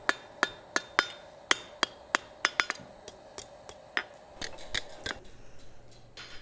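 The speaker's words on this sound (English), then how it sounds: "What I'm forging with right now is a 1 3/4 pound hammer." A 1 3/4 pound forging hammer strikes hot metal in a blacksmith's shop, a quick series of sharp ringing blows with short pauses, some in rapid doubles, then a softer shuffling clatter near the end.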